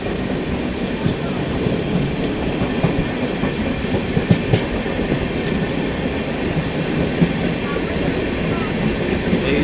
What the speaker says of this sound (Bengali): এসএমবিটি বেঙ্গালুরু হাওড়া এক্সপ্রেসকে ওভারটেক করছে আরণ্যক এক্সপ্রেস।